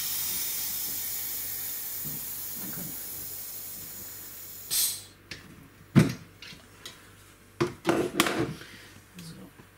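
A portable soda maker carbonates a drink with a steady hiss of gas that fades over several seconds, then gives way to a few sharp clicks and knocks.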